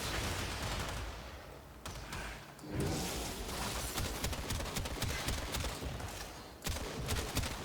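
The Cedo weapon in the shooter game Warframe, boosted by Harrow's ultimate, firing in continuous rapid bursts of gunfire with dull thumping impacts, loud and dense throughout with brief gaps, no voices.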